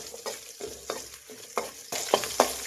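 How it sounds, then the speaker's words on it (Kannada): Onions fry in a pan for marriage-style drumstick sambar, with a soft, steady sizzle broken by a series of scraping stirs roughly every half second, the last few strokes louder and sharper. "ಇದನ್ನು ಸ್ವಲ್ಪ ಫ್ರೈ ಮಾಡಿ"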